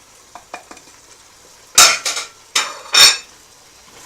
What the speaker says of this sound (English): Then you mix.